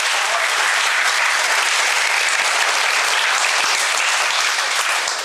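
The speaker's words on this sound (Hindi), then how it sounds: "तो हम सबके लिए एक बार तालियां।" A live audience at Kush Sir's talk bursts into sustained applause, a dense, even wash of many hands clapping loudly for over five seconds with no talk over it.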